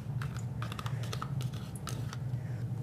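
Plain yogurt drips and trickles into a small mixing bowl while tzatziki is made in a home kitchen, heard as scattered soft close ticks and taps over a low steady hum.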